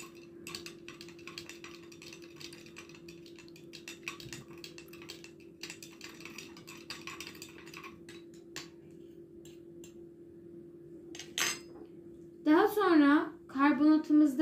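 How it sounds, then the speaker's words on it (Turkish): A spoon's back stirring a red lava mixture for a volcano experiment, producing light, rapid clicking and ticking taps against the container over a steady hum, followed by someone speaking near the end. "Şimdi güzel bir karıştırıyoruz kaşığımızın arkasıyla."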